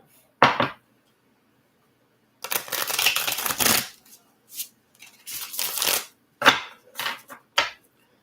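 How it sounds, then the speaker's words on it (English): Tarot cards are shuffled by hand in quick, crisp bursts of riffling and sliding, several separate bouts broken by short pauses, close and fairly loud. "Probably should have sat and shuffled these for a minute"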